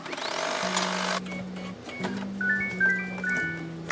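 An embroidery machine stitches felt onto stabilizer, starting with a brief loud burst, then a steady motor hum in short runs with faint high tones above it.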